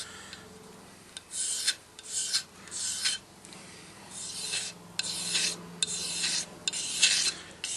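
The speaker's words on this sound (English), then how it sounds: "scrape off all varnish that was on the axe in the first place" Old varnish is scraped off a wooden axe handle in repeated rasping strokes, close and fairly loud, with short pauses between each pass.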